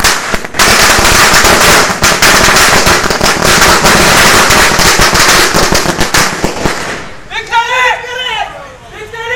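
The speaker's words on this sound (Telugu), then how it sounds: "కేక్ కట్ చేసి టపాసులు కాల్చి సంబరాలను చేసుకున్నారు" Firecrackers set off by fans celebrating a film release outside a theatre in Godavarikhani, a dense rapid crackle of loud bangs that runs for several seconds before cutting off, after which voices carry on.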